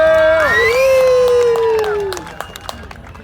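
A car show crowd cheers for a Ford F-250 with a long sustained whoop, followed by scattered claps and fading crowd noise.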